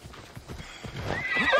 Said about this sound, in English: What I'm gonna do is just get my horse to go.